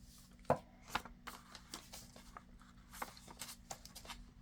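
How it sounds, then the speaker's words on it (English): Paper for a 6 x 6 journal is trimmed in a quiet room, giving a few soft scattered clicks and papery snips with light handling rustle between them. "So we'll just do a little trimming"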